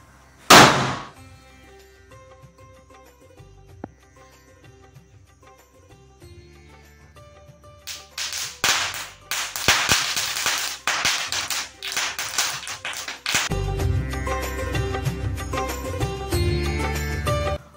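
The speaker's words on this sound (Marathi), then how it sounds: "फटाके फोडत होता" A sharp bang opens, then after a quiet stretch a dense crackle of bursting Diwali firecrackers builds into a loud, continuous barrage.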